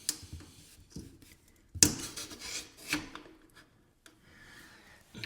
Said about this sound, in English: I'm gonna be using my PEX cutters to cut the PEX